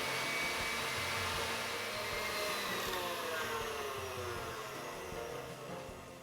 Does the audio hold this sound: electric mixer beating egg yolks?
yes